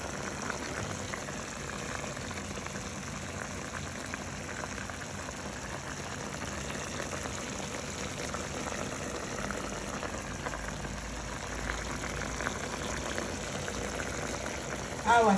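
A pot of food simmers on a stove with a steady, close bubbling and hiss that continues without a break.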